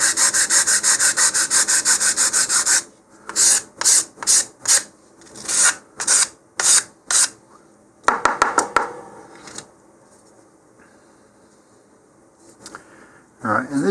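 Wooden rocket fin edges are sanded with a rasping rub, first in a steady run of strokes, then in short separate bursts with quiet gaps between.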